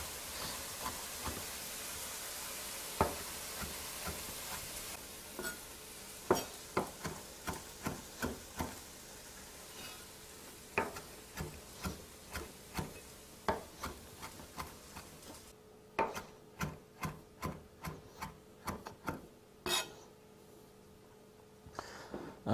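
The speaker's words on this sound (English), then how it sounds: "I'm just going to chop up the parsley" A knife chops parsley on a board, a long run of sharp, regular taps that speed up in bursts, close and clear against quiet hiss.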